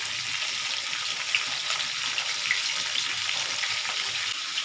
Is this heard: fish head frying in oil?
yes